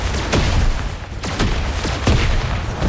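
A grenade blast in the battle royale PUBG, heard as loud rumbling booms and crackling impacts tightly packed together through a short, intense stretch.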